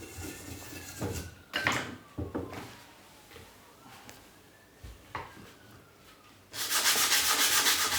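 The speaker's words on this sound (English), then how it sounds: "I use the same sandpaper grits on the root." Sandpaper rubs against the bamboo root of a shakuhachi in short, scratchy strokes, close and fairly quiet, with a burst of louder, sustained sanding at the end.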